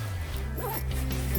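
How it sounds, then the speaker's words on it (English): A sleeping bag zipper is pulled shut inside an 11-foot hammock, a close, quick rasping zip against a low background hum. "So just need to zip up the sleeping bag."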